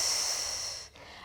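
A slow, steady exhale of breath during a Pilates mat roll back, close and airy, fading out after about a second with no voice.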